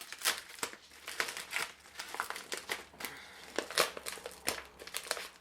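Lip Monthly subscription box pouch being opened, crisp plastic packaging crinkling and rustling in repeated close bursts, quiet overall with no talking.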